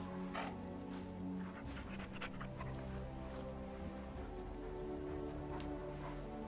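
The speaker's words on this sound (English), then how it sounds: "We have to pet our dog." A pet dog in the video game Dragon Age Origins is petted and answers with close, steady panting and soft whimpers. Light rustling and game ambience run continuously underneath.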